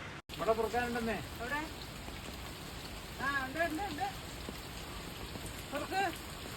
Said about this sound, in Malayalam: തോർന്നു നിന്ന മഴ പൂർവാധികം ശക്തിയോടെ തിരിച്ചു വന്നു